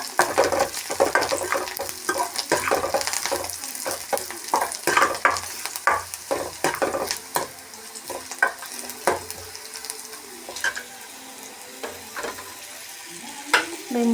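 Food frying in hot oil and stirred in a pan until lightly browned, a continuous sizzle broken by frequent scraping and clinking strokes of a utensil against the pan, close and moderately loud with no talk.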